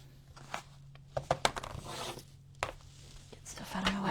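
Paper being cut with scissors for a junk journal, a few sharp snips and rustles, close and intermittent, under a low steady hum; no talk.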